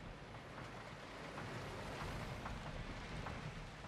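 Waterfall in the theme-park building game Planet Coaster, a continuous broadband rushing and splashing roar, steady and fairly faint, heard alone without talking.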